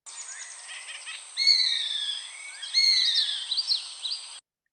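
A gray hawk in Southeast Arizona giving its call, a few clear, high, drawn-out whistled cries in sequence, sharp and moderately near against a quiet background.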